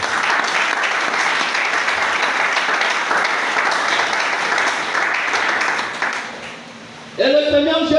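A church congregation applauds loudly and steadily for about six seconds. The clapping then thins and dies away, and a voice starts speaking near the end.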